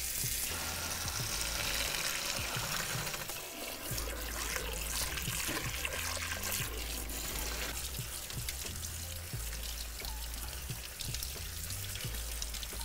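Cooked pasta draining in a colander under cold running tap water in a kitchen, a steady rushing pour with occasional knocks and clatter, continuous and fairly close.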